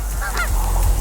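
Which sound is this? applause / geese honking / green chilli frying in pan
geese honking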